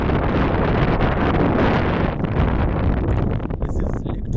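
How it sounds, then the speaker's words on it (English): Strong wind near Lake Turkana in the Kenyan desert, a loud, continuous roaring buffet of gusts battering the microphone, easing slightly toward the end. "The winds here are very strong"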